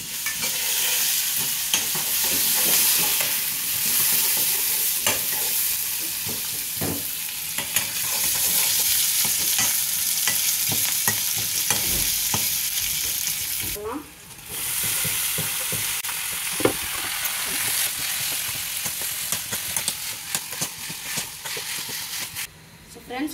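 Onions, chillies and curry leaves fry in a mustard-seed tempering for a South Indian tomato bajji, a continuous crackling sizzle with frequent stirring scrapes. A voice speaks over the frying.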